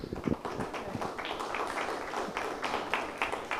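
Audience applause at an Italian art conference as the mayor is welcomed to speak, a dense, steady patter of many hands clapping at moderate distance with a faint voice briefly over it.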